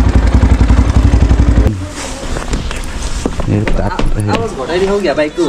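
A motorcycle engine idles with a steady low throb for the first couple of seconds, lined up among other bikes, then drops away as voices talk over background noise.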